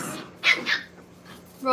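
Puppies yapping in a home, two short high barks close by amid background noise, followed by a brief voice at the end.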